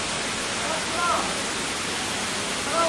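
Water from a mysterious spring at the foot of a rock with carvings of Shiva and Nandi in Orissa, a steady broadband rushing flow, close and constant.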